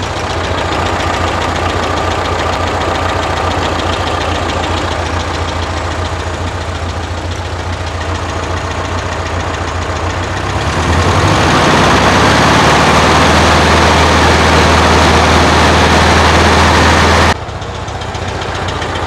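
A 1979 VW Super Beetle air-cooled engine fitted with dual carburetors idles steadily and alone, a rough, slightly uneven rumble that rises to a louder, faster idle near the end before dropping back.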